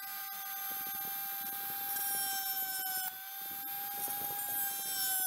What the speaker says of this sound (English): we'll start drilling holes.